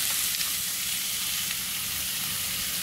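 Vegetables sautéing in a pan, a loud, dense, continuous sizzle with a steady hiss and light stirring, heard alone without talk.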